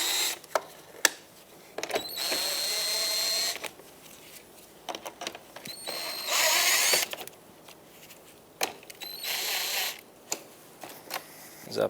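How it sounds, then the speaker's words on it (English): Screws being backed out of the grille on a 2014-2021 Mazda 6, giving short clicking, ratcheting mechanical bursts in a few separate spurts, close and moderately loud, with quiet gaps between them. "remove the screws on the other side as well"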